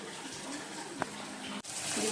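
Fish sizzles as it fries in a pan in a home kitchen, a steady, close hiss with one brief clink partway through.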